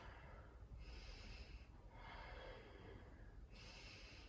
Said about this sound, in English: You'll hear my breath.